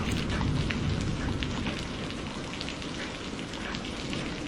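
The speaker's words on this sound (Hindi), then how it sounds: "कितनी देर से बारिश आ रही है, रुकने का नाम ही नहीं ले रही।" Heavy monsoon rain pours down in a continuous dense, loud hiss of drops striking surfaces, steady and unbroken throughout with no voices.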